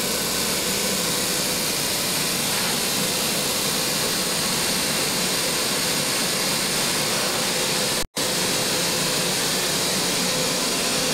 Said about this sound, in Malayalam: അതിൻ്റെ ജനറേറ്റർ.